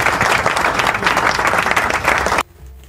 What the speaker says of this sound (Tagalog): bigyan nga natin isang palakpak ang MTRCB